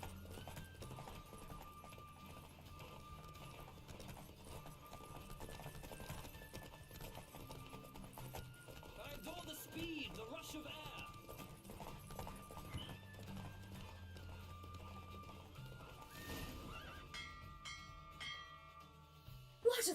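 Hoofbeats of a horse racing in The Witcher 3 clatter steadily under game music, with occasional whinnies and bell-like chimes, ending in a sudden loud burst.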